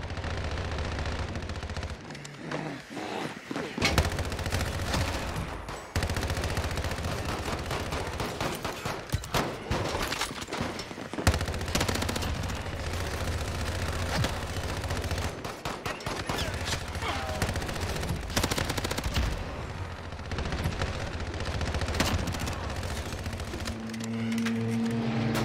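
Gunfire in the video game Call of Duty: Modern Warfare, Infected mode on the Scrapyard map, crackles in rapid bursts of automatic fire and scattered shots, repeated throughout with brief gaps, loud and close.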